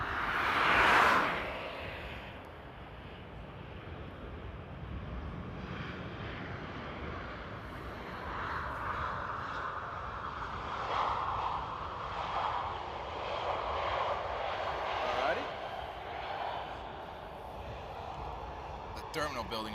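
A Luxair airliner in special livery at Paris Charles de Gaulle on a sunny day, its jet engines a steady broad roar that swells and holds through the stretch, with a voice talking over it.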